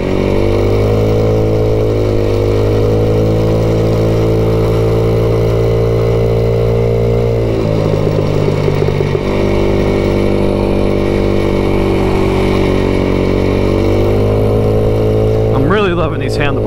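Stock 2021 MADDOG Generation V 150cc scooter riding and accelerating, with a loud, close, continuous engine drone whose pitch climbs, dips and climbs again as speed builds.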